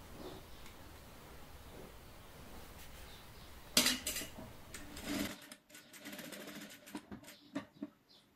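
A domestic sewing machine stitches a hem on a pair of shorts, its steady whirring motor running faintly for several seconds before it stops and fabric handling clicks follow.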